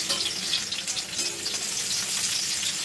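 Chopped onion frying in white oil, a steady bright sizzle with a bubbling crackle that holds evenly throughout at moderate volume, with no talk.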